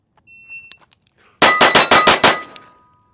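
A Staccato HD C3.6 compact pistol fires a fast string of six loud, close shots in quick succession, with faint clicks and small handling noises before the string.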